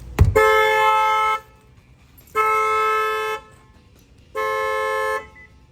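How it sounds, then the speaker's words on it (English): A 2022 Kia K5's factory alarm with an added shock sensor sets off after a sharp knock, sounding three loud, steady horn blasts of about a second each with even pauses between them. "if they try to bang them out, the alarm will fire off"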